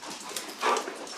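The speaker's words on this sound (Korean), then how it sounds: "이렇게 큰 강아지가 있어요?" A big dog gives a short, faint whimper, a brief high whine lasting about a second against quiet background.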